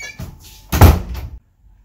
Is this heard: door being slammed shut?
yes